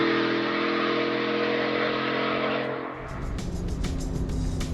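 Tuned bolt-on Coyote V8 Ford F150 accelerating down a drag strip, a loud, sustained engine roar that climbs steadily in pitch, then a hard gear shift near three seconds and a rougher, rising pull afterward.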